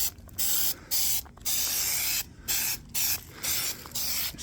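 Spray adhesive hisses from an aerosol can onto a sagging car headliner in a series of about eight short, loud bursts separated by brief pauses, close up and with no voices.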